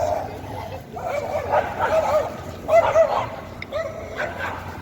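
Small dogs yipping and barking in quick overlapping bursts, squabbling with whiny growls, fairly close and loud amid background noise in Vienna.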